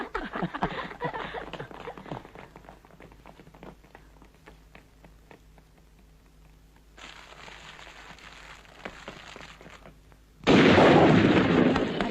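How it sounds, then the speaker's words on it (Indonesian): A rapid crackling string of small Dutch firecracker bursts pops nearby, thins out into scattered snaps, then a loud dense burst of crackling and hiss erupts. "Dengar tuh petasan dari Holland, bunyinya juga modern, lain."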